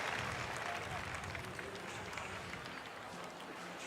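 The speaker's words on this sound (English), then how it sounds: "please, a big applause for him. Warm applause, Grayson Lander." Distant crowd applause rises in a steady, muffled wash of clapping, fairly faint against the background, at the 2025 BMX World Championships in Copenhagen.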